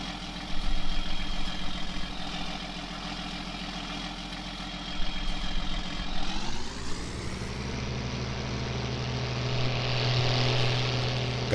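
John Deere 4950 tractor idling in Farming Simulator 19, a steady engine drone with a low constant hum that shifts pitch and settles around midway, carrying on alone without talk.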